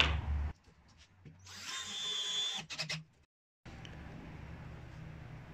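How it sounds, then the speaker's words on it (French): A power drill bores a pilot hole into a wooden board for a wood and copper table, with short whirring bursts, a steadier run in the middle, a brief pause, then a lower continuous hum. "j'aurais besoin de faire un pré-trou et de venir faire un trou pour la tête pour qu'elle rentre parfaitement à plat dans ma planche"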